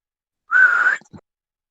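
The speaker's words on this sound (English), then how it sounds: "I whistle." A person gives a single loud, clear whistle as a signal, one sustained tone of about half a second, alone in silence, followed by a brief faint click.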